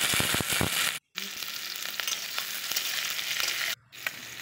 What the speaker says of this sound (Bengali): এখন আমি শিমলা মির্চ আর পেঁয়াজটা হালকা করে ভেজে নেব।